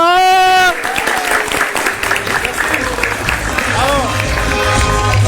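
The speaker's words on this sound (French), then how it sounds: "Merci d'applaudir notre frérot et votre MC 360 degrés, Jackie Elfeno" At a televised midday event on Malian state TV, a crowd applauds an MC after a brief musical tone, with scattered clapping and cheering mixed with voices and background noise.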